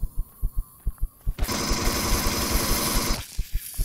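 Gunfire from an enemy Zyrax in the Empyrion Galactic Survival game: a dense, sustained burst of automatic fire, loud and continuous for about two seconds, framed by steady thumping pulses before and after.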